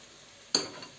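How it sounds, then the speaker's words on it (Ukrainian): Carrot hitting a hot pan already frying onion and meat sets off a sudden loud sizzle that bursts out midway after a quiet start, then settles into a steady, fading hiss. "І підсмажуємо разом з морквою, цибулькою і моркву підсмажуємо трошки"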